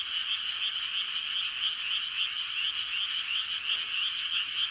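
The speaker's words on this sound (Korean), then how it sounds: "야, 그만 울어 개구리." Frogs croak in a steady, continuous chorus that fills the whole stretch at an even, loud level, with no voices over it.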